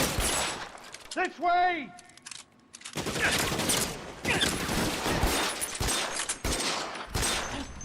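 Rapid bursts of gunfire in L.A. Noire gameplay crackle loudly and repeatedly at close range, interrupted by a short shouted line of dialogue early on.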